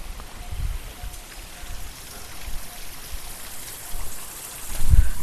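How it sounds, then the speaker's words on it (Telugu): Steady rushing, splashing water from a small waterfall flowing close by, with a few low thumps; near Amrabad. "మినీ వాటర్ ఫాల్ అండి ఇది"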